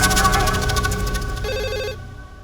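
A telephone bell rings in a home, in a rapid trilling burst that cuts off, followed by a brief electronic tone pattern before silence.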